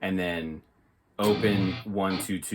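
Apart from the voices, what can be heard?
No everyday noises stand out.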